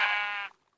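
A single sheep in a video game gives one short, bright, nasal bleat lasting about half a second, close and clear, then cuts off to silence.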